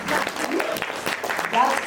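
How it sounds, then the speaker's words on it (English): Audience at a children's literature festival clapping for a young author, a brief burst of applause with a voice heard over it. "So we can have a clap for the name"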